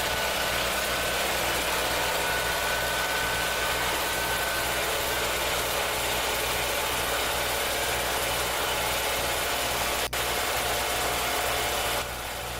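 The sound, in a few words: Simplicity Sunstar tractor with Kohler Magnum engine running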